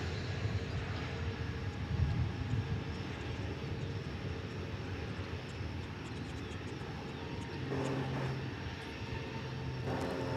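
An airliner arriving from Chihuahua on approach to land at DFW Airport at dawn, a low, steady engine roar with a faint rising whine, moderately distant and continuous throughout.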